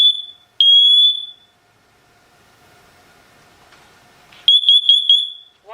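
A Siterwell hardwired interconnected smoke and carbon monoxide detector sounds its test alarm: loud, piercing electronic beeps, a near-silent pause, then a fresh burst of rapid shrill beeps, close and alone.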